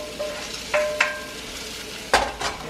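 Cooked meat and vegetables are stirred together in a big pan over the heat, with soft sizzling under a few sharp scrapes and clinks of a utensil against the pan.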